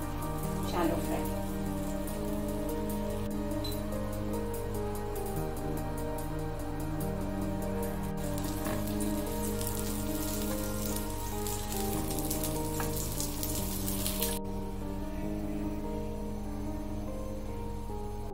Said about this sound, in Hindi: ये रोल्स हम इसमें थोड़े फ्राई कर देंगे, शैलो फ्राई।